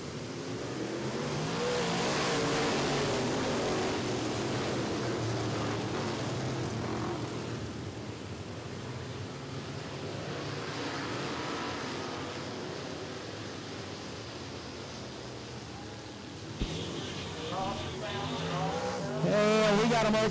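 Super stock race cars roaring around a short oval at Richmond Raceway, a broad, rising and falling engine wash from the pack during a multi-car spin, with an announcer's voice and a sharp engine blip near the end.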